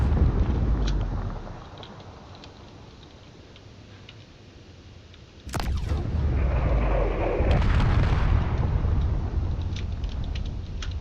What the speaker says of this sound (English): Those cannon shots are very dangerous.